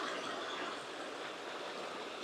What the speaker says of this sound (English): just to your left there is an absolutely idyllic set of little waterfalls.